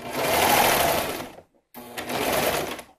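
A serger runs a seam through a swim top with its knife disengaged: two loud bursts of rapid stitching split by a brief pause, close and alone.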